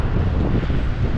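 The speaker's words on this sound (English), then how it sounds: "it is really windy day," Gusts of wind buffet a microphone on a windy street in Doha, making a dense, rumbling low roar that stays loud and constant. No voices come through.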